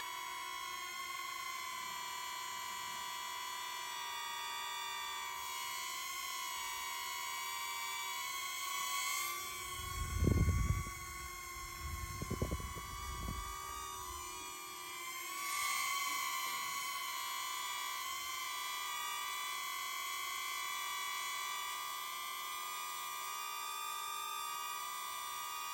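A DJI Neo drone hovers and flies with a steady, high-pitched whine of spinning propellers, constant and fairly close, with a couple of brief low thumps partway through and no speech.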